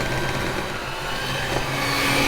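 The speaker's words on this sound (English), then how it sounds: "I'm going to use a handheld mixer" A handheld electric mixer creams room-temperature butter and sugar with a continuous, even motor hum at moderate loudness and no talking.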